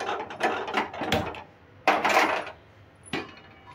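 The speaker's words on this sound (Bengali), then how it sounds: "দেখো কড়াই বসিয়ে দিলাম।" A metal wok (kadai) set down on a gas stove in a home kitchen, giving a few separate clanks and scraping rattles, close and moderately loud, with short pauses between them.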